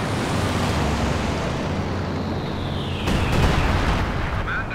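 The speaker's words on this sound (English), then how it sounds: "in comes a bombing run" Bombing run explosions in the World War II strategy game Company of Heroes 2: a loud, sustained broadband rumble that swells further with a heavy boom around the third second, with no talk.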